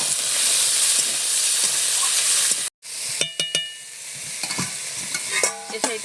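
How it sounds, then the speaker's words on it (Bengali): Lightly fried onions hiss steadily in a pan. After a brief silent break, a spoon clinks and scrapes through the mix over a softer sizzle as chopped tomatoes go in, with no voices. "পেঁয়াজটাকে হালকা ভেজে নিয়েছি, এবারে কেটে রাখা টমেটোগুলো দিয়ে দেবো।"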